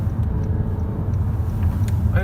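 A 2016 Honda HR-V ESi enters a roundabout while downshifting from third to second. From inside the cabin its engine and road noise form a steady, fairly loud low rumble throughout.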